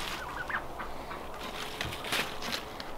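A turkey calls in a backyard vegetable garden with lettuce and cucumber beds, giving faint, scattered gobbling clucks at a distance over quiet outdoor background noise.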